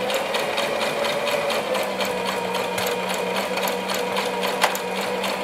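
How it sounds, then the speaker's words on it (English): A sewing machine stitches fabric in a steady, continuous mechanical hum with fine rapid needle ticking, close and fairly loud, running alone without talk. "I'm leaving the needle down when I turn it around, and then I'm putting the presser foot back down"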